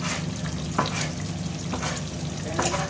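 Chicken pieces fry in hot oil, a steady close sizzle with a few soft stirring knocks scattered through it.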